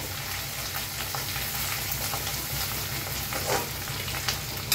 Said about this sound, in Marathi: हळदीला बी छान असं भाजून घेऊया